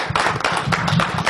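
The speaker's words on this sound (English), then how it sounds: "give Dusty a huge round of applause" A brief burst of audience applause at a speaker-training session, a dense, loud patter of many hands clapping at once, with a low murmur of voices beneath.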